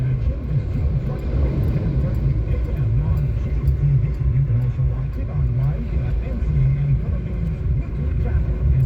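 Motorcycles on a road heard from a vehicle during a driving lesson, with a steady low engine rumble and passing traffic noise running throughout under a person speaking.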